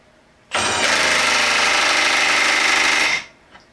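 A Milwaukee M12 3/8-inch stubby impact wrench spins at full speed for about two and a half seconds with a loud, harsh buzz and rattle, then cuts off abruptly, followed by a faint tap.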